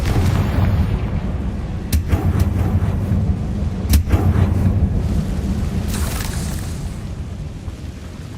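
Fire-blast spell explosions from the Hogwarts Legacy video game: a dense, loud, continuous rumble with two sharp blasts near the 2- and 4-second marks and a hissing burst later, with no talking.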